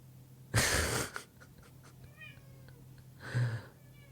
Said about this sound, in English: Prawn's meowing